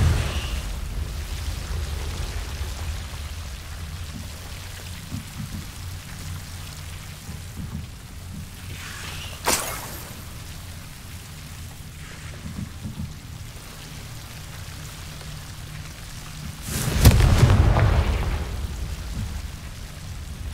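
Confringo spell explosion in Hogwarts Legacy: a sharp crack followed by a louder booming blast with rumbling tail, set against steady rain-like ambient noise.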